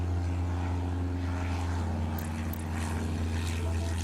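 A propeller plane in the Airport Madness video game drones steadily as it takes off, a continuous low engine hum with a constant tone and no talk over it.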